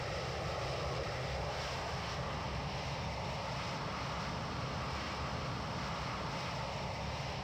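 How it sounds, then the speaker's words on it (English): Boeing 737-800 engine in the X-Plane 11 flight simulator: a loud, steady broadband roar with a low rumble, unbroken and constant throughout with no talk. "why is his engine so loud?"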